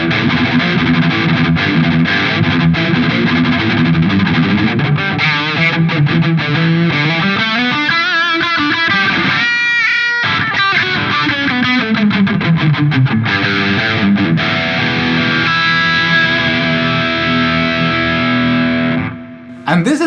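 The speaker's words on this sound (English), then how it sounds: "Ibanez AZ, and we've engaged the Rev G3 pedal" An Ibanez AZ electric guitar through a Rev G3 distortion pedal: a dense, continuous stream of heavily driven riffs and chords with bends and slides, loud and unbroken for about twenty seconds before a brief drop near the end.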